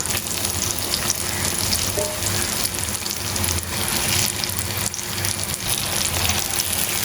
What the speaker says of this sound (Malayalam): ഇപ്പൊ എല്ലാ സൈഡും ഇതേപോലെ തിരിച്ചു മറിച്ചിട്ടൊന്ന് ഫ്രൈ ചെയ്തെടുത്താൽ മതി.